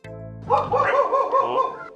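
A rescued dog, Piolo, gives a short burst of close barks and yips, loud and alone.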